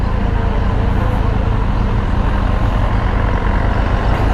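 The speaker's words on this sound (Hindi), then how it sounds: "गाड़ी नहीं ट्रक है भाई।" A truck rumbles past on a road, a loud, dense, steady low roar of engine and tire noise filling the whole stretch, heard close with no clear talk.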